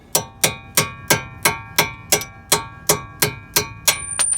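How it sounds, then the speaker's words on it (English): A hammer strikes a 1/4-inch socket extension about a dozen times in an even rhythm, driving out a bolt during a passenger-side CV axle replacement on a 2006 Kia Sedona; each hit gives a sharp metallic ring. "give it a smack with the hammer"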